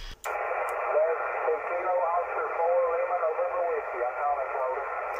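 A distant amateur radio operator calls over the 20 meter band during a park activation, a thin band-limited voice heard through steady receiver hiss for several seconds.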